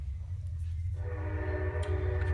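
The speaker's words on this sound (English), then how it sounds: "I apologize the sound, train going by here." A passing train sounds a loud, sustained horn blast that starts about a second in and holds to the end, over a deep steady rumble of rolling cars nearby.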